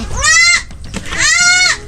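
A goat on a farm bleats twice, loud and close, each call a wavering cry lasting about half a second with a short pause between them.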